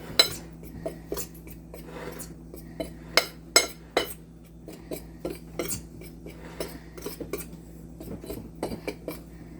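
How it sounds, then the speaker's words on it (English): A fork clinks and scrapes against a dish while mixing black pepper into flour, with a string of light, irregular metallic taps and chinks up close, loudest in the middle and steady through the rest. "Get my fork, mix that in."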